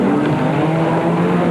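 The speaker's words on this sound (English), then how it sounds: "Car with Harkes as he wrestles with a heavy super truck" Heavy super trucks racing in the 1997 Super Series, a loud, steady, close engine roar with a sustained droning tone and no pauses.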